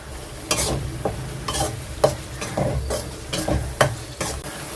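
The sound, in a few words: stirring potatoes and spice paste frying in a pan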